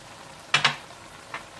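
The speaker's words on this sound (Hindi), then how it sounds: "और जब मसाला अच्छा सा भुन जाए और तेल अलग हो जाए तो आप इसमें फिश डाल दें।" Fish going into cooked spice masala in hot oil, giving two quick sizzling bursts close together and a fainter third burst a moment later, with no talk.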